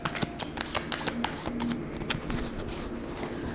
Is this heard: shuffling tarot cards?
yes